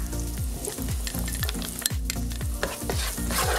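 Onion fries in a pan with garlic, giving a loud, continuous sizzle broken by repeated stirring scrapes and clicks of a utensil, with no talking.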